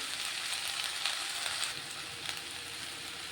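Okra sizzles steadily as it fries in a pan for a home-style Telugu lady's finger fry, a dense, even crackle with no voices.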